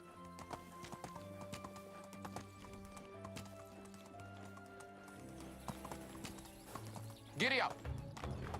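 A horse in the medieval game Medieval Dynasty clip-clops steadily, and one short neigh comes near the end. Game music plays underneath.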